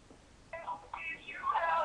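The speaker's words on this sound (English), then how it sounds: "Oh, sorry. That's my phone." A mobile phone rings indoors with bright electronic tones: a short burst, a pause, then a longer warbling melodic phrase that grows louder toward the end, with no talk over it.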